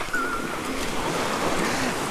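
Ocean waves wash onto the shoreline at San Vicente, Palawan, during typhoon weather, a steady broadband rush of surf with some wind noise, close and continuous.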